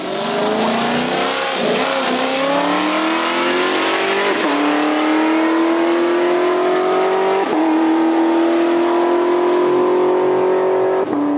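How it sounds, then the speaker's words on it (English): A loud BMW F30 340i engine revs hard and launches away at a drag strip, the pitch climbing steadily through gear changes over several seconds, with no voices. "I still had Draggy running, so I took my time and launched the car."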